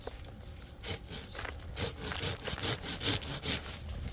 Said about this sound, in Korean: 그걸 자르려면 톱을 이용해야 되겠죠.